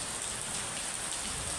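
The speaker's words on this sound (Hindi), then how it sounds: "देख सकते हो कितनी भारी बारिश हो रही है" Heavy rain pours steadily with a dense, even hiss and no breaks, close by, and no voices.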